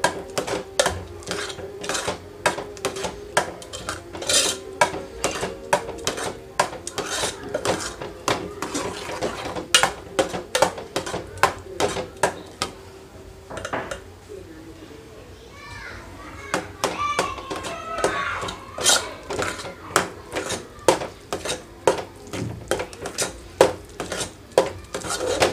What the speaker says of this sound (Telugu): ఈ రాగి పిండిని కొంచెం కొంచెంగా వేస్తూ కలుపుకోవాలి.